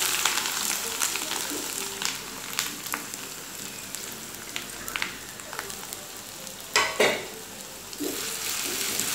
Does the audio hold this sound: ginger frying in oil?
yes